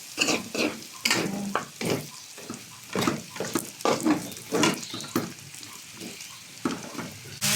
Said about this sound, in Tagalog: Ating sibuyas at ang ating luya. Paghaluin na natin.